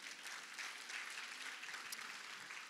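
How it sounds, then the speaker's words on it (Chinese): A church congregation applauds during a Sunday-style worship service, a steady, dense clapping from many hands that fills the hall evenly for a few seconds, with no speech over it. "拍掌将荣耀归给神"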